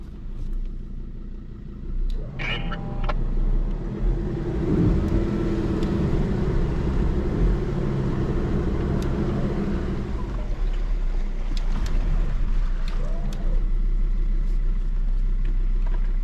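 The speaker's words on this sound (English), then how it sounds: "Your wheels are just sliding there," A bogged 4WD on a muddy Mt Sugarloaf track revs hard with its wheels spinning and sliding, a loud sustained low engine roar that swells and holds steady, with faint voices nearby.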